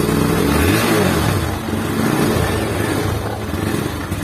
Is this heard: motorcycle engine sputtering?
yes